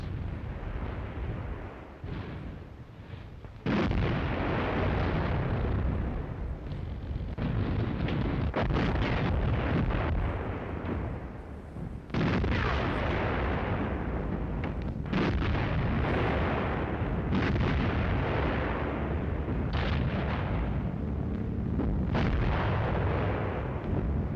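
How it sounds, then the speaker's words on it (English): Naval guns of German battleships fire on the aircraft carrier Glorious: heavy booming salvos and rumbling blasts repeat in bursts over a constant roar, loud and close, with no talking. "Unsere Schlachtschiffe eröffnen das Feuer auf die Glorious."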